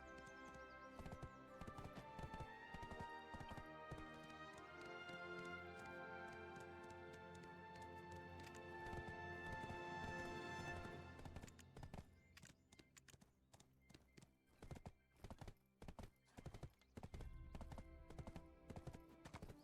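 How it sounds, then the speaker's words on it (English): Galloping horse hooves thud in a quick, regular rhythm in the game Black Desert, set against a swelling musical score that later drops away, leaving the hoofbeats more exposed. "If we'll get caught riding on a horse."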